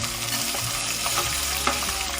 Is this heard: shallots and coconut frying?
yes